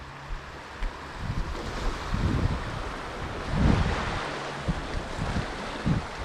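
Water rushes through a spillway ahead of a hurricane, a steady broad roar mixed with gusty wind buffeting the microphone, surging louder at moments, with no voices.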